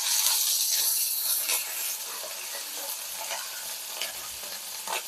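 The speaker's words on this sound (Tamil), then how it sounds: "இதையும் போட்டு ஃப்ரை பண்ணிடலாம்." Grated ginger and chopped garlic fry and are stirred in a hot pan, making a steady close sizzle with hissing bursts and a few soft scrapes, with no voices.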